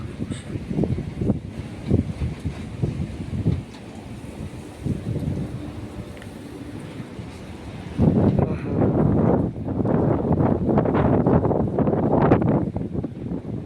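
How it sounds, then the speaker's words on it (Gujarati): Strong storm wind in Gujarat roars and gusts across the microphone, with a steady rushing wash of rain underneath that swells louder in the second half. "ફૂલ પવનની સાથે વરસાદ ચાલુ થયો"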